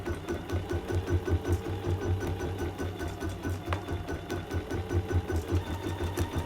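An embroidery sewing machine with an embroidery needle and 40 weight embroidery thread runs steadily, a close, even, rapid mechanical chugging hum with a faint rhythmic knock throughout.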